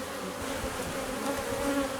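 Honey bees buzz steadily at a hive of Carpatica bees, a dense, continuous close-up drone with no voices.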